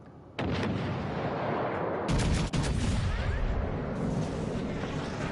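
USS New Jersey battleship guns fire shells in a video game, landing as several heavy, close booms with long rumbling tails that stack on one another.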